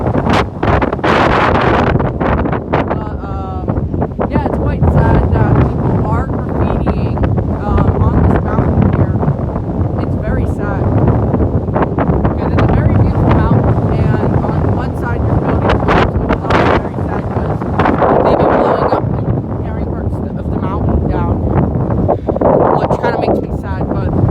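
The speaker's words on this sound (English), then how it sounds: "as you kind of know, it's quite windy" Strong mountain wind roars and buffets the microphone steadily throughout, a loud continuous rushing noise with gusty swells.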